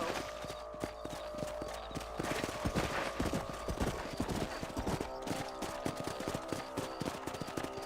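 Horse hooves in the video game Red Dead Redemption on PS5, beating in a fast, steady clip-clop while riding out to patrol ranch property, loud and continuous with no talk.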